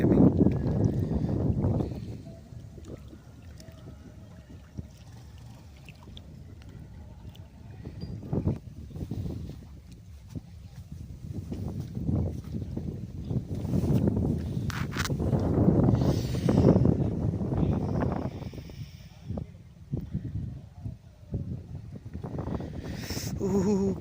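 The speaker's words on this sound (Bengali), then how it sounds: "আসো নিচে প্রচুর হাওয়া দিচ্ছে এখানে" Strong, cold gusty wind roars and buffets the microphone on a winter morning by a river, rising and falling in waves, with faint scattered knocks beneath it.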